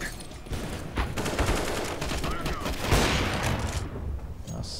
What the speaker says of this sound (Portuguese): Nossa, cara, um tiro.